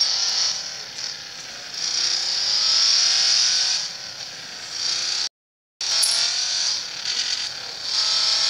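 Ferrari engine revving in loud, sustained high-pitched surges that rise and fall, briefly cut off by a moment of silence before the roar resumes.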